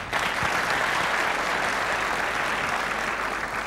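A Turkish television variety show studio audience breaks into loud, dense applause, a continuous wash of clapping that stays full and even throughout.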